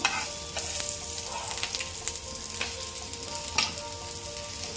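Taro leaf rolls (alu vadi) shallow-fry in oil in a pan, giving a steady close sizzle with a few sharper crackles and stirring or turning knocks, no talking.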